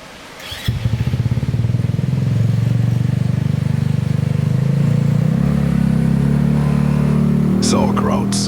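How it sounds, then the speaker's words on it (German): Engine of a home-built half-scale replica of the 1936 Auto Union Type C race car, firing up and settling into a loud, steady, throbbing idle that rises slightly, heard close with a brief voice near the end. "Ich habe ein Auto Union Typ C im Maßstab 1:2 gebaut und das ist das"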